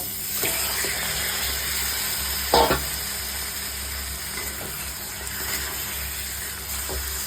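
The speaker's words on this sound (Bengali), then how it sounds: "এইবার ম্যারিনেট করা চিকেনটা দিয়ে দেব।" Marinated chicken going into a hot pan, a steady hiss and sizzle with one brief clatter and splash of the pieces landing, close and moderately loud, no talking.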